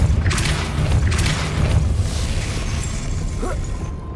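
A Depulso spell cast in the Hogwarts Legacy video game lands as a loud, booming blast with a short burst of crackle. Rumbling low energy follows and fades over a few seconds, with no talk.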